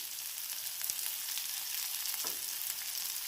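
Onions fry in a pan with salt and turmeric for a dosa batter, giving a soft, steady sizzle with occasional light stirring clicks and scrapes, all fairly quiet and without voices.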